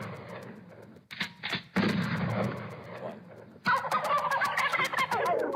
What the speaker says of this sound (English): How many shots will it take to kill our Thanksgiving turkey this time?